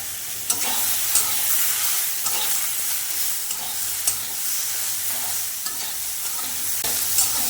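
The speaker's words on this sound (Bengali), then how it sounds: "হালকা একটু ভেজে নিয়েছি আর জিরে বাটাটা দিয়ে দেবো জিরে বাটাটা দিয়ে আরেকটু আমি কষিয়ে নেবো" Spices with chili, turmeric and salt frying in a pan for a small-fish curry, a steady loud sizzle with repeated spatula scrapes and knocks as they are stirred, close up.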